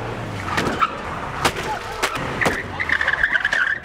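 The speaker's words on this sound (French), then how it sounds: "assister à une série de crash tests" A car in a road-safety crash test staged before a school group: tire noise and engine sweep past with several sharp impact bangs, then a high squeal near the end, all under a steady outdoor background.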